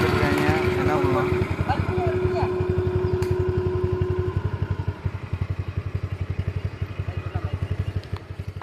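Motorcycle engine running at a race event: a loud, close, throbbing exhaust idles with rapid regular pulses, while a voice talks over the first half.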